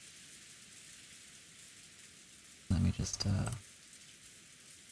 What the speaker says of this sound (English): release us from the sound of eternally falling rain